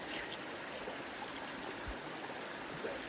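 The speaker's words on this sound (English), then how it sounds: "And then I've got the river" A river rushes past a rocky bank in a steady, close broadband wash of flowing water, continuous and loud enough to smother everything else, with no voices over it.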